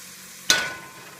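Onions and peppers sautéing in a pan for arroz con gandules: a sudden sizzling burst as they are stirred, fading into a softer steady hiss.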